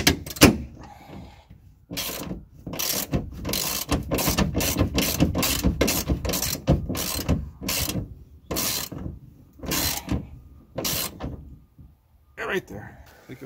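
Bolts being tightened on a truck bed rack for a Ford F-150, a rapid run of sharp metallic ratchet clicks in repeated bursts with brief pauses, close by, with a voice talking in between.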